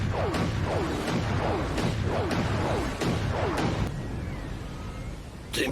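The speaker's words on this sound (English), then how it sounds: "that's the sound of the Dempsey roll" Dempsey roll boxing punches whooshing, a rapid rhythmic series of about eight swishing swoops with sharp attacks, loud against a noisy background, ending with one final burst.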